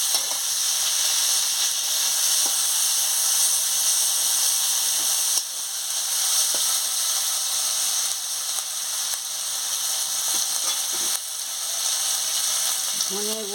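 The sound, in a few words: chopped tomato and green chili frying in pan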